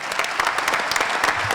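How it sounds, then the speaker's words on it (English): A crowd applauds maintainers at a KC-135 departure ceremony at Pease Air National Guard Base, dense, brisk clapping from many hands filling a short burst. "A round of applause for them"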